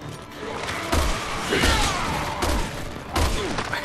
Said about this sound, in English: I shot him in the face like 6 times